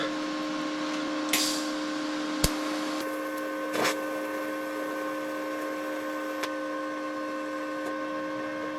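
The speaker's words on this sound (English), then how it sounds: "So this is a piece of stainless steel. Let's just butt weld them." A TIG welder runs a butt weld on stainless steel, giving a steady, even electrical buzz and hum with a few sharp clicks and brief crackles, close and moderately quiet.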